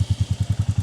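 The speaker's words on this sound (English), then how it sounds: "So I have to start the engine now." The single-cylinder engine of a Royal Enfield Meteor 350 motorcycle runs in a steady, even thump of low pulses just after starting, close and loud, with nothing else heard.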